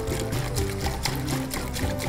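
Acetone pours into a jar as a continuous close liquid trickle and splash that runs steadily for about two seconds, with no voices.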